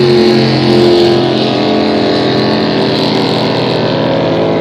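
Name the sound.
super stock hydroplane race boat engine at regatta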